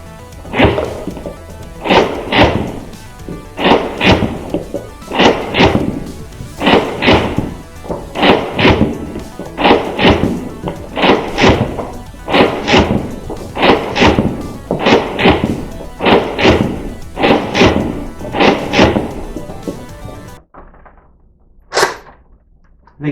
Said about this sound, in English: So let's try slam firing.